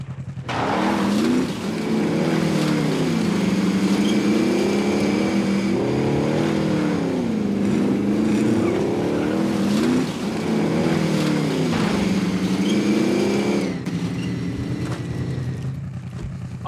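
A car engine in the Call of Duty Warzone video game drones steadily for most of the stretch, its pitch wavering up and down as the vehicle drives and revs, loud and close with no talking.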